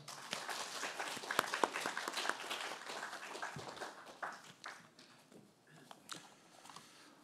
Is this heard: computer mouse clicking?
no